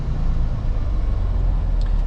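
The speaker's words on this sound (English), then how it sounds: "It's a little more aggressive downshifting as well." A Freightliner Cascadia semi truck with a Detroit engine, or a Kenworth W900L with a Cat engine, rumbles steadily from the cab as it downshifts, a low constant drone with no talk over it.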